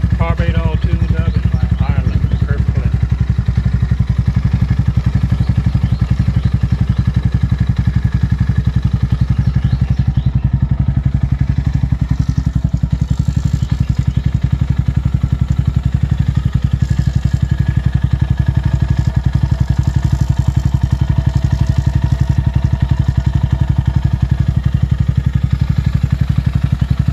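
Venom X22R 250 motorcycle with a freshly tuned carburetor and new oil cooler, its single-cylinder engine idling steadily up close with a constant low throbbing rumble and some mechanical clatter throughout.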